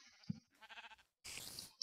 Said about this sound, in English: the sheep scared the shit out of me